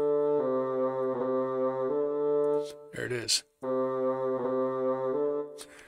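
A synth figure in the style of a Carnatic gamaka: two low repeated notes, the second given a push, sounding as a sustained harmonic tone phrase that plays twice with a brief voiced break between the repeats.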